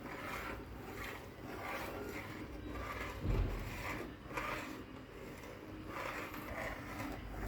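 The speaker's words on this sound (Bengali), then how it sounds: "এখন কিছুক্ষণ এইভাবে নাড়তে থাকবো যতক্ষণ পর্যন্ত ঘন না হয়ে আসছে" A spoon quietly stirs Thai soup in a pot, making soft, repeated scraping and rubbing strokes at an even pace, close and faint.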